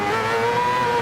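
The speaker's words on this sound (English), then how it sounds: "I was listening to the engine notes there, and looks like both cars were committed onto the power" Group C race cars in GT Sport on the Brands Hatch circuit, with a steady, loud engine drone holding a sustained tone under full power for about a second, without any talk.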